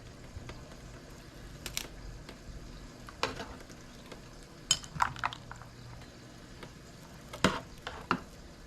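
Tomatoes being turned in a pot of hot water on a stove, soft bubbling hiss with scattered sharp clinks and knocks of a utensil against the pot, no talking.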